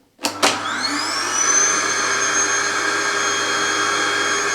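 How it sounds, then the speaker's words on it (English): A vacuum cleaner powered by an ALLPOWERS R600 portable power station switches on with a couple of sharp clicks, then spins up into a loud, steady, close whine and hum that continues without talking. "turn on the vacuum again"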